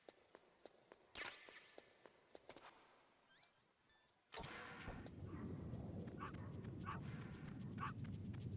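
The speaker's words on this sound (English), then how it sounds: "Oh, it is a dog." A dog in the Metal Gear Solid video game gives soft footsteps, yips and whimpers, then a short string of chirpy cries and a burst of barking over a dense rumbling game background.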